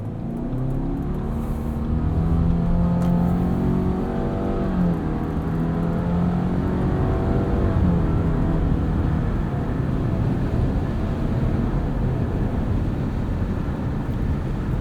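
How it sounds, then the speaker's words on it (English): Steady whirring drone from a 2021 Subaru Crosstrek Limited with a 2.5L engine and CVT while driving on the road, with rising tonal whine and constant wind and road rumble throughout. "There's nothing new about the performance of this CVT. It whirs away like it always has."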